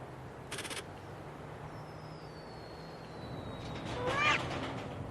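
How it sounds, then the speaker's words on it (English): Cats meow during a Whiskas cat food commercial, a couple of short mews rising near the end over a low background hum with a brief clatter earlier. "These cats are totally ruining the experiment."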